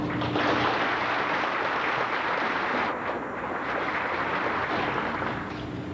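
At a 1992 county FFA banquet, a room full of guests applauds former officers, a thick, continuous patter of clapping that stays loud and even for several seconds, dipping slightly near the middle.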